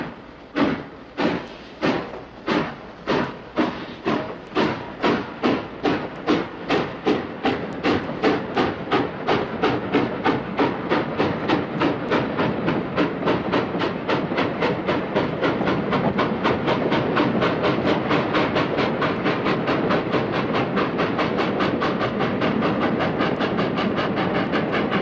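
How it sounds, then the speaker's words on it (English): A train pulls away from a railway station, its wheels starting with slow, widely spaced clacks that quicken into a rapid, steady clickety-clack rumble as it gains speed, loud and continuous, no voices. "The train left with the culprits."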